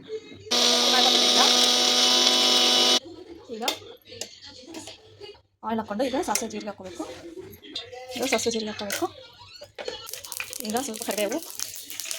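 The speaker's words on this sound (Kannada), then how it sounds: "ಮೆಣಸಿನ್ಕಾಯಿ ಕರಿಬೇವು ಸ್ವಲ್ಪ ಜೀರಿಗೆ ಹಾಕ್ಕೊಂಡು ಇದನ್ನು ಮಿಕ್ಸಿ ಮಾಡಬೇಕು" A mixie grinds green chillies, curry leaves and cumin in a short, loud, steady whirr of about two seconds, then stops; someone talks afterward amid clinking kitchen sounds.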